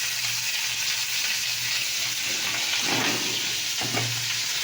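Bay leaf and panch phoron spices fry in hot oil in a kitchen pan, a loud, steady crackling sizzle that carries through the whole stretch with a few stirring scrapes near the end.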